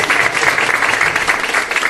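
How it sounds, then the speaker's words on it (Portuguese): Audience applause at a startup demo day pitch event, a brief burst of dense, evenly textured clapping from a sizeable crowd, steady and fairly loud throughout the two seconds. "palmas para a nossa mulherada"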